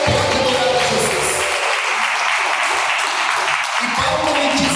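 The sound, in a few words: congregation clapping for Jesus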